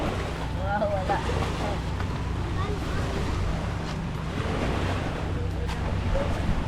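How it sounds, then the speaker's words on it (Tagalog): Rough sea waves churn and crash steadily, mixed with gusty wind buffeting the microphone and a faint engine-like hum beneath. "Medyo malakas lang yung dagat mga kahanap. Medyo maalon."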